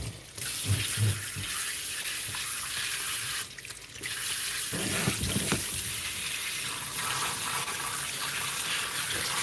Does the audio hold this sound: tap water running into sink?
yes